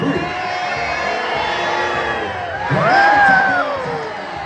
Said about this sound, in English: Cheer him on, Dawson Creek.